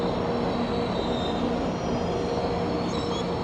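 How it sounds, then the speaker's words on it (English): A GO Transit commuter train rumbles past close by near Toronto's Union Station, a steady broadband roar of wheels on rails with faint high metallic squeals, continuous with no talking. "there's another train, another GO train"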